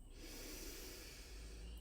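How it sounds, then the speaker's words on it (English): One slow, close breath is drawn in and let out, a soft airy hiss with no talking. "Breathing in and out."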